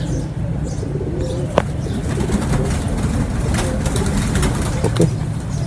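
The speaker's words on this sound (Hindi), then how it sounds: "अफजाल भाई बता रहे हैं जी ये तार वाला कबूतर है इनका" Wire-type pigeons brought from Dubai coo softly amid a dense, steady wash of flock noise, with occasional wing flaps and faint chirps, close and continuous.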